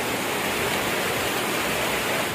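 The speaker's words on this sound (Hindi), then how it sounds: "गलियों में बहता पानी मानो ऐसा लग रहा है जैसे नदी रास्ता बदलकर शहर की गलियों में बह रही है" Floodwater rushes through city streets after heavy rain from Cyclone Tauktae in Rajasthan, a steady, dense broadband roar of flowing water that stays loud and unbroken throughout.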